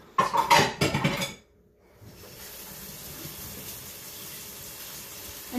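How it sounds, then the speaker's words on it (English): Clattering dishes and metal knocks at a kitchen sink, then a brief lull before a tap runs in a steady, hissing stream of water for several seconds nearby. "I'm gonna wash my hands"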